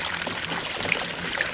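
Water churns and sloshes steadily inside a game bird washer spinning chicken eggs, a close continuous watery rush with no talking.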